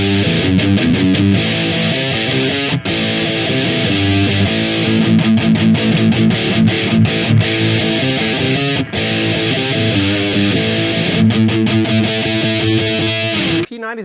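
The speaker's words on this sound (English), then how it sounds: "great tones coming out of these P90s" Telecaster electric guitar fitted with P90 pickups, played continuously with sustained chords and riffs, loud and up close with a touch of drive, and a brief stop near the end.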